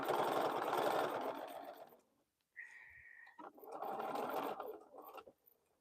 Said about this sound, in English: So since we're sewing with the same stitch length, I can just go ahead and stitch my X.